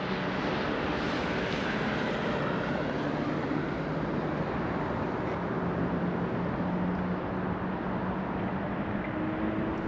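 Cross-border sleeper train running between Yerevan and Tbilisi, a steady rumbling drone of wheels and carriage noise with a faint tonal whine, continuous and close, with no talking.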